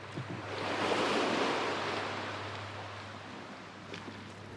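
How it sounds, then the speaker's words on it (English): Waves wash against an island shore as the tide rises, a broad surging roar that swells and slowly fades, alone with some wind. "As the tide rose, it was a bit tiring to keep fighting the waves at the island."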